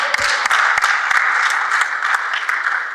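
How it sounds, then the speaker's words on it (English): An audience at a crypto metaverse panel event gives the panelists a round of applause: steady, dense clapping from many hands that holds evenly loud for the whole stretch, with no voices over it. "a big round of applause for them actually"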